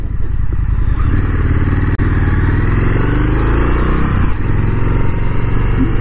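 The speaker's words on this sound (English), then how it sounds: "this power plant, a 1200 V twin that just boils out the horsepower and torque, it just feels so rowdy at the same time" A 2024 Indian FTR 1200 motorcycle with a 1200 cc V-twin engine, running loud and close with a deep, continuous throbbing rumble and a slight pitch rise as it pulls, no talking.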